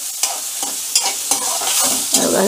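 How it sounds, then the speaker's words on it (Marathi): Sliced onion fries and sizzles in a hot pan while a spoon stirs it, giving a steady hiss broken by several short scraping strokes; no one speaks. "कांदा पण आपल्याला तांबूस कलर येईपर्यंत भाजून घ्यायचा आहे."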